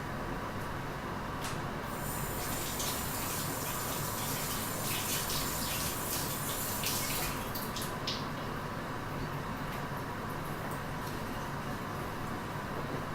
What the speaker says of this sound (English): then just go and wash your hands